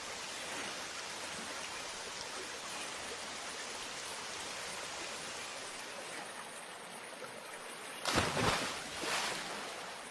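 Steady cartoon rain hiss fills the scene, a continuous wash of falling water alone, with a louder splashing burst near the end.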